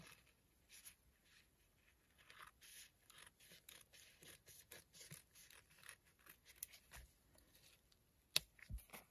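Small scissors snipping through a printed paper napkin at close range, a series of quiet, crisp cuts in an uneven rhythm, with one sharper snap near the end.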